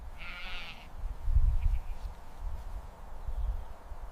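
A single short bleat from a grazing sheep on a farm rises near the start, followed by low rustling and soft outdoor rumble with no further calls.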